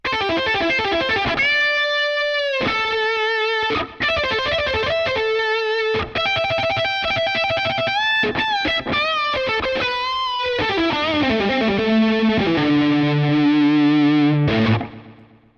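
A sustained distorted electric guitar in mono lead mode on the Impact Soundworks Shreddage 3 Stratus virtual instrument plays a melodic solo line, loud and alone, with bending and gliding notes before cutting off at the end.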